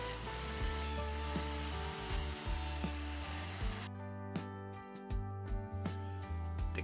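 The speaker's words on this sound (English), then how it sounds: "here you'll see me lay out my mortise and tenon joint and begin to make the cuts for the" Hand saw cutting a tenon in wood, heard as repeated rasping strokes with sharp clicks and knocks, moderately close and fairly quiet, with no one speaking.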